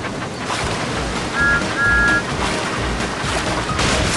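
Rushing water on Water Slide Mountain in the Magic Tracks video game, a continuous whooshing surge with swells and a faint thin whistle midway.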